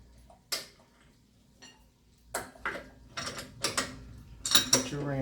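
A wrench works a car wheel's lug nut with a series of metallic clicks and clanks, spaced out at first then coming in quicker bursts, close by.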